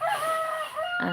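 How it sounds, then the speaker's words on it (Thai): A rooster crows loudly and close by in one long drawn-out call, with a second call starting near the end. "เสียงไก่ขัน"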